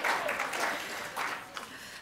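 Audience applause in a lecture hall, a steady patter of many hands clapping across the whole stretch, fairly close and even, with no voices over it.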